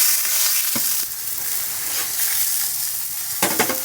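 Angus beef burgers fry on a hot wood stove inside a winter tent, with a close, steady sizzle and occasional sharper crackles.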